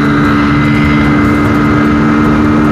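A loud Fan 125 motorcycle engine roars close by, running hard and steady through a short drag run from a corner.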